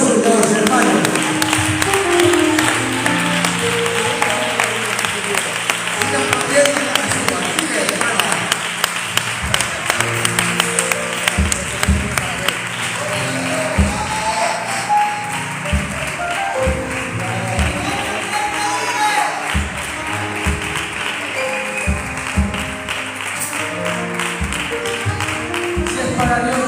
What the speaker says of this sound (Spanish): Un aplauso para los hermanos.